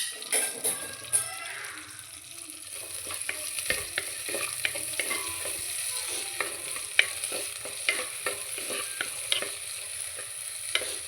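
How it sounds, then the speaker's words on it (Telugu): Onions frying in a clay pot as the base for a fish curry, a steady close sizzle with frequent scraping stirs and clinks from the spoon, running continuously with no talk. "బాగా వేగనివ్వాలి. చిన్న ఉప్పు వేసుకుంటే త్వరగా వేగిపోతాయండి."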